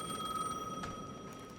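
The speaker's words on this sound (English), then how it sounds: "Let's answer the phone." Telephone ringing inside the video game Alan Wake 2, a steady electronic ring with sharp sustained tones, moderately loud and alone with no talking.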